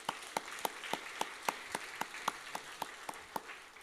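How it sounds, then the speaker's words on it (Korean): Rhythmic clapping from a church congregation at a Friday worship service: sharp, evenly spaced claps in a steady beat, fairly quiet, over a faint background hum. "우리 뜨거운 박수로 감사합니다."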